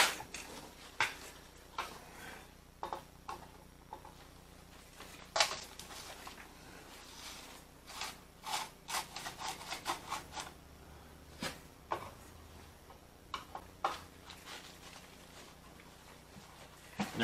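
A screwdriver works slotted wood screws on a self-winding clock case, giving quiet scraping, rubbing clicks and irregular short grinding bursts, close and faint, with no talk.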